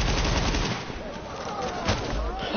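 Gunfire in The Division's dark zone, a dense, continuous rattle of shots filling the whole stretch, loud and close, with a player voice mixed in.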